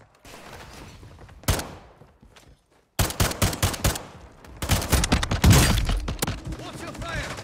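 Bursts of video game gunfire in a military squad setting, quiet at first, then dense rapid volleys of shots and automatic fire crackling loudly in clusters, with radio-style voices between.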